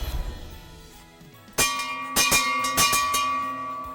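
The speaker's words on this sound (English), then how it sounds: "And when we're all done, we'll go ring the bell." A bell is rung at a store during a holiday shopping event, several bright metallic strikes in quick succession that ring on and decay after a quiet lead-in.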